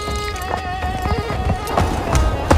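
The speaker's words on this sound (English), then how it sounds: "He took his horse. He galloped to the capital." Hooves of a galloping horse clatter in quick, uneven beats over a steady, loud layer of music and ambient sound, with no speech.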